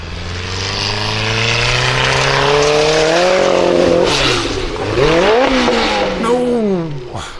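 A formula offroad car drives a course at Stapafell, its engine revving high and rising and falling in pitch as it accelerates and climbs, loud and close, with a commentator talking over it.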